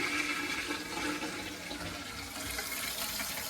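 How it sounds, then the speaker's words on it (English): Steady rushing of water pouring into a toilet tank, a continuous hiss and gurgle that stays loud and even throughout. "You can hear the water running."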